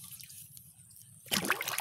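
Triple 16 fertilizer mixed with water is stirred in a drum, a sudden burst of sloshing and splashing liquid after a quiet, low-humming stretch, close and fairly loud.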